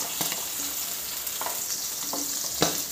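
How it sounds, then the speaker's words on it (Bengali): Green peas for fried rice sizzle and bubble in a hot pan, a steady close hiss with a few faint scrapes and taps of a stirring spoon, no talking. "মটরগুলো ফুটছে"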